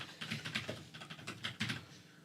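Rapid typing on a computer keyboard, a steady patter of light key clicks with a few louder taps, heard close against a soft room background with no talk.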